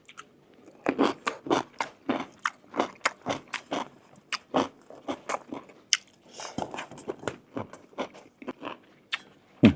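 Someone eats spicy duck offal curry close up with a steady series of crunchy bites and chewing, each sharp bite followed by a brief pause.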